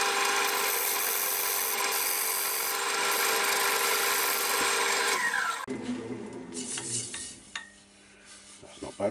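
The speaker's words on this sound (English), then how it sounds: "I'm just rolling this edge over so it's nice and round" Skew chisel rounding over the edge of a sycamore platter spinning on a wood lathe, a bright steady hissing scrape for several seconds, then stopping into quieter rubbing and clatter at close range.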